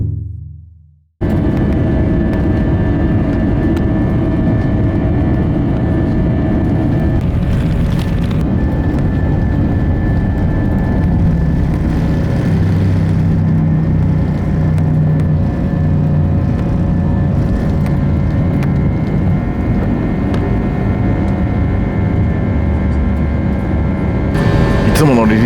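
Steady airliner cabin roar during a takeoff run on a flight in China, a constant broadband engine and airflow rumble that holds loud and unbroken throughout with no clear speech.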